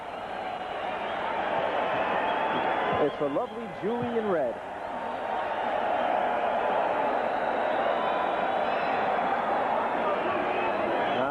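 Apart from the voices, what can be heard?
boxing crowd roaring and cheering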